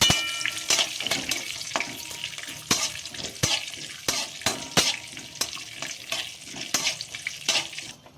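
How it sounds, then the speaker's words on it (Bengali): Raisins sizzle in hot oil in a pan alongside half-fried cashews, with sharp scraping clicks from a spatula at irregular intervals throughout. No voices. "এবার আমি কিশমিশগুলো দিয়ে নিচ্ছি"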